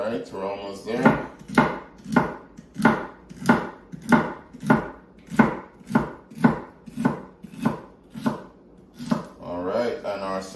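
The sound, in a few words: chopping celery sticks with a knife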